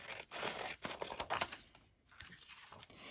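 Scissors cutting through paper for a journal page spread, a few close, quiet snips and crinkles over about three seconds with no talk.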